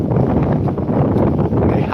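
Strong wind buffeting the microphone on a wet, windy day at Withernsea, a loud continuous rumbling roar with gusty fluctuations and no other clear sounds.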